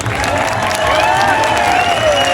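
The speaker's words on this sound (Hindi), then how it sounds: "अभी भी तालियां कम है आपकी।" An audience at a literature festival in Quetta applauds, continuous loud clapping and crowd noise with melodic sounds and voices layered over it throughout.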